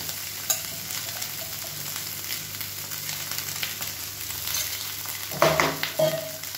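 Egg fried rice being stirred slowly in a hot pan, a steady low sizzle with soft scraping, and a louder burst of clatter and frying near the end.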